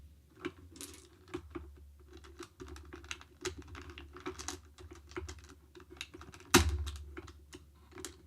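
Dice are dropped back into their case as a string of light clicks and rattles, ending in one sharper, louder clack toward the end. The sounds are fairly quiet and close.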